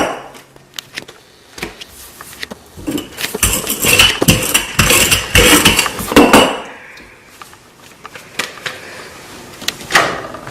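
A spatula scrapes and knocks against a high-sided frying pan while a whole-wheat chapati is turned, giving a burst of irregular metallic clatter and scraping that fades to a few scattered taps.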